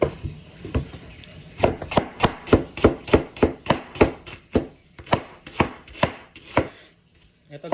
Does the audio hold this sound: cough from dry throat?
no